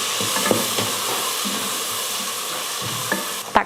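Masala for chicken biryani sautés in a pan, a dense close sizzle broken by scraping stirs and light clinks of a spoon against the vessel, ending with a louder knock.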